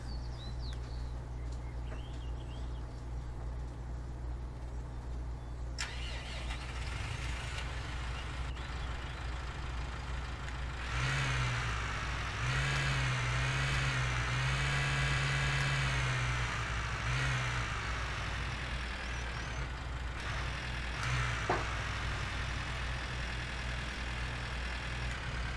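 A tractor engine in the farming game Cattle and Crops 2019 hums steadily throughout, rising into a louder, throatier revving stretch midway before settling back, with faint chirps in the background and no talk.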